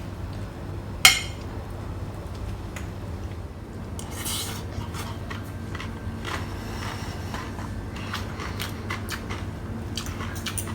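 Rice being mixed with chili and egg, including runny yolk, on a plate for nasi lemak: soft clinks of cutlery against the plate and gentle scraping and rubbing, one sharper clink near the start, steady and close.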